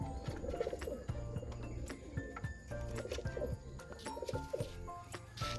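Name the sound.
pigeons cooing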